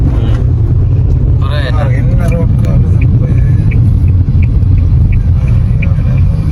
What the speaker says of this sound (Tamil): நாங்கள் காரில் போகிறோம்.